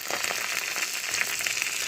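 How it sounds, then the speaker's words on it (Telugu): Mustard seeds, cumin and dried red chilies sizzle hard in hot oil in a small tempering ladle for a tomato rasam, a close, steady crackling hiss with no one talking. "నేను పోపుకి ఇలా గరిటె పెట్టేసుకున్నాను, పోపు గరిటె పెట్టేసుకున్నాను. ఆవాలు, జీలకర్ర, ఎండుమిరపకాయలు వేసేసాను."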